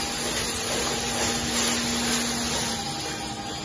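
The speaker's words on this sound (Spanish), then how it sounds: "Aquí sale el aceite extra virgen, una buena máquina que está produciendo el aceite." Cold-press oil extraction machine producing extra virgin oil, a continuous mechanical hiss and hum with a steady tonal drone, close and unchanging, no talk.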